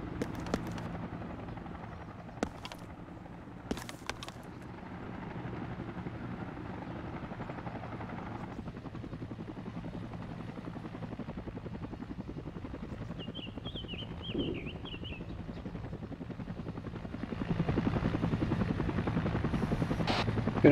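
An AH-1 Cobra attack helicopter in the video game ArmA 2 flies nearby, its rotor thrum steady throughout and swelling louder toward the end, with a few sharp clicks early on.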